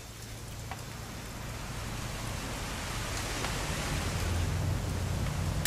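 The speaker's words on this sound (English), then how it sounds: "It's gonna rain the whole weekend" Steady rain falls in What Remains of Edith Finch, a dense, even hiss of drops on surfaces that holds constant and slowly swells slightly, heard alone with no voices.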